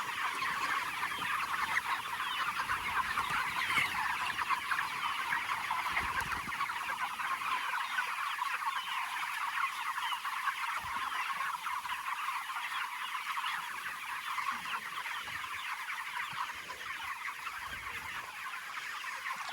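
A large flock of about 1,000 chickens clucks and chatters continuously, a dense overlapping murmur of many birds with occasional louder calls.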